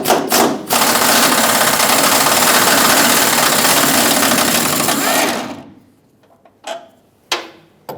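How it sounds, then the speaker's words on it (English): A power tool spins out a T50 bolt on a 2008-2010 Ford F-250 Super Duty tailgate hinge, a loud continuous whirring burst of about five seconds that cuts off, followed by a few short clanks. "There are two T50 bolts at this point that we have to remove in order to get the hinge off."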